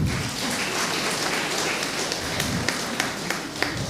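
A congregation at a Mass applauds loudly, a dense, sustained wash of clapping with a few sharper individual claps standing out near the end.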